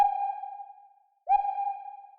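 A single sustained synth note in music production, washed in heavy reverb, rings out and slowly fades to silence, then a second identical note strikes and blooms into a long reverberant tail.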